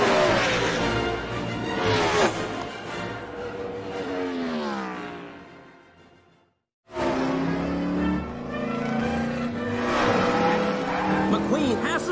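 Race cars roaring around a track during a climactic race in the animated film Cars, engines and passing cars loud and continuous under dramatic score and voices, with a brief dropout midway.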